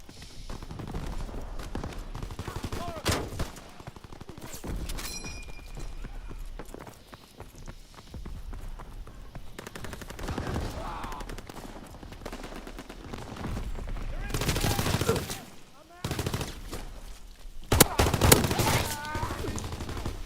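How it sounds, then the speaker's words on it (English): Pistol fire in the video game Call of Duty: WWII, sharp shots fired at intervals through a noisy battle scene, with the loudest cracks near the end and a voice talking now and then. "I actually like this pistol. It feels really good to shoot with."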